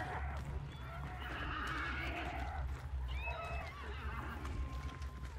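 Horses neighing and whinnying in the video game Hunt: Showdown, a few calls rising over a steady ambient bed with faint hoof clip-clop, near and moderately loud, with no talk.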